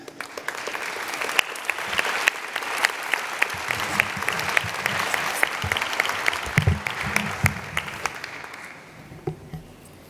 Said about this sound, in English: Let's give all these students another round of applause, please.